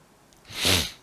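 A single sneeze, near and fairly loud, with a short breathy intake before the sharp burst that then fades away.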